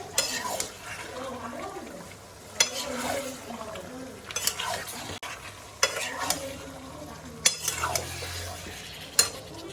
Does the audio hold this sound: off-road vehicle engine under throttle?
no